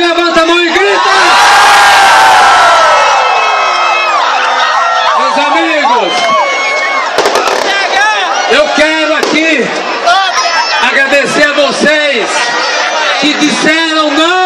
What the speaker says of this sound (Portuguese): Quem gosta do Marconi aqui, levanta a mão e grita